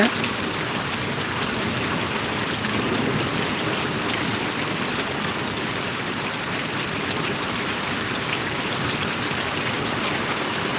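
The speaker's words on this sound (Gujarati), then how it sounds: "જોઈ લો તમે આ પરવડીનો વરસાદ અત્યારે હાલ" Steady heavy rainfall drums down in a village, a thick, even wash of near patter and hiss that holds without pause, no voices present.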